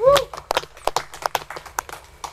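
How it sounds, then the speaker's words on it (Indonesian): Scattered hand claps from a small audience at a village head election gathering, a few uneven sharp bursts with a voice briefly at the start. "Tepuk tangan dulu guys."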